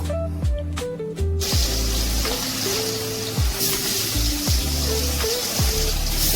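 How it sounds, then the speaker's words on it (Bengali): Hilsa fish frying in hot oil, a loud, close, continuous sizzle and crackle that bursts up as the pieces go in and then holds steady, with a few soft clunks in the background and no talking. "তেল গরম হয়ে গেছে, এখন ইলিশ মাছগুলো একে একে তেলের মধ্যে ছেড়ে দিল।"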